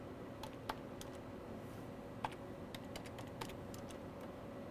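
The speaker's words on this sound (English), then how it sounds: "we're going to type in a name such as today's date" Keys clatter on a computer keyboard as a name is typed for a Windows restore point, giving light, irregular clicks close by over a steady low hum, with no voice.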